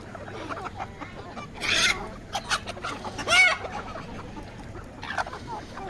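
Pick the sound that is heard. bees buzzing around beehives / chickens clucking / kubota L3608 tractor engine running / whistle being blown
chickens clucking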